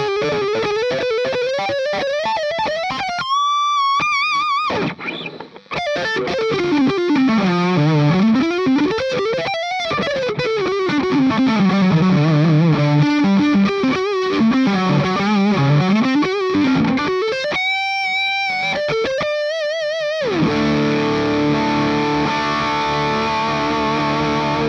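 Distorted, heavily compressed electric guitar lead through a Garland SoT50 amp at low volume, sustained bending notes and slides with a couple of brief gaps, ending on a strummed chord, loud and up close with no talking.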